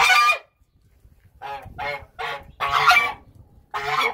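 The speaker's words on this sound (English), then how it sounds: "Goober Goose" A goose on a farm where animals are cared for honks repeatedly, close and loud: about six harsh, nasal calls in an uneven series with short gaps between them, with no talking.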